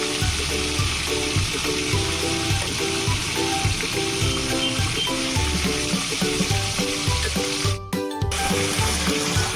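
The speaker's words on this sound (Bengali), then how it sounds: "সমস্ত চিকেনের টুকরোগুলো আমি এখানে দিয়ে দেবো।" Chicken pieces, 800 grams, sizzle loudly in a hot pan for chicken rezala, a steady broadband frying hiss with stirring clatter and knocks throughout and a brief dropout near the end.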